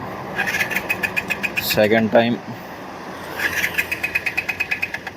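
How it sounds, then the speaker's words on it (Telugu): A TVS Apache RTR 160 4V motorcycle starter cranks in rapid rhythmic pulses, stops briefly while someone speaks, then cranks again without the engine catching, the fuel tank completely out of petrol. "మళ్ళీ స్టార్ట్ చేసే ప్రయత్నం చేద్దాం"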